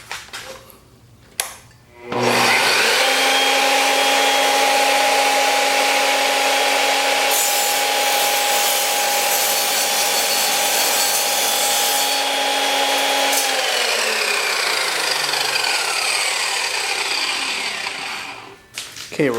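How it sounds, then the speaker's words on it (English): An Evolution Rage 3 miter saw cuts through a piece of aluminum in one long, loud, continuous grinding whine of about sixteen seconds, with a steady motor tone that starts up, holds and then spins down. "let's see if it does any better on this piece of aluminum"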